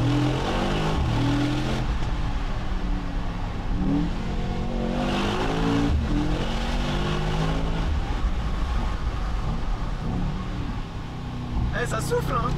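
Mercedes-AMG E63 S engine revving hard in neutral, loud continuous exhaust roar rising and falling through several revs, close up, with a voice talking over it.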